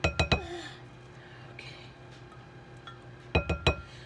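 A spatula scraping banana bread batter out of a bowl, with bursts of three quick hard clinks at the start and again near the end and quieter soft scraping between, close and without talk.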